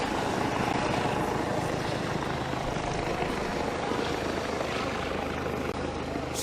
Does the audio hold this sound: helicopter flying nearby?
yes